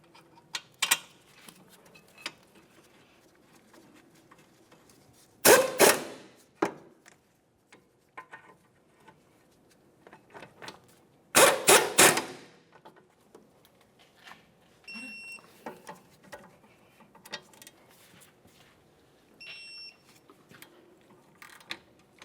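A ratchet tightens the brake caliper mounting bolts on a 2006–2011 Honda Civic. Two short bursts of rapid clicking are separated by quiet stretches with scattered small ticks and metallic taps.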